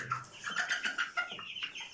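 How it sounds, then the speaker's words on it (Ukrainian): A cluster of chicks peeping in quick, high-pitched chirps that overlap constantly and stay close and fairly loud, with no talking. "Випустив курчат, вони такі дикуваті."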